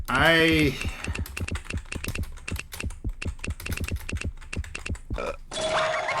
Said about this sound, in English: Come on, start typing.